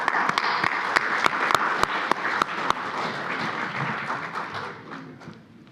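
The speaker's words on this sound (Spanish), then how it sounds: "Un aplauso también," Audience clapping at a legal panel session on the trial stage as recognitions are handed out. Brisk, crowded applause fills the first few seconds, then thins and fades into room murmur.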